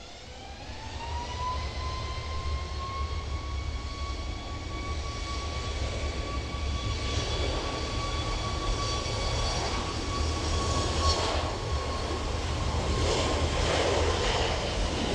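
Jet airliner spooling up its engines for takeoff on an airport runway, a steady rising whine over a broad continuous roar that swells louder and closer throughout.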